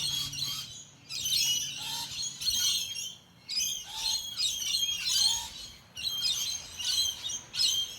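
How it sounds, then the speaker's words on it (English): Morning birds chirp and squawk outdoors, with dense, overlapping calls and short bursts coming in waves, fairly close and clear, and no talking. "I feel like I have a backup band with me this morning with these birds."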